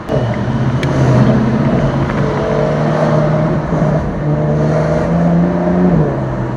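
A Porsche cruising through Beverly Hills streets, its engine a steady near drone with rising and falling rev tones through gear changes, continuous and loud with road noise throughout.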